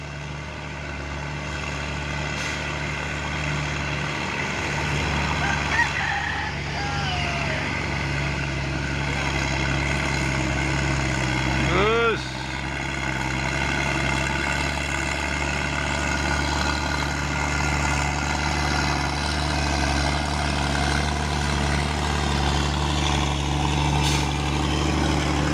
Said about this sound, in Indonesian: mantap knalpot tua ini ha